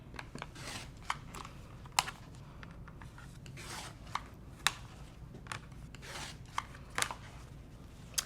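A rotary cutter slicing jelly roll quilt fabric into 6.5-inch squares, giving repeated short crisp cutting strokes with light rustling and handling of the fabric and ruler in between, close and steady.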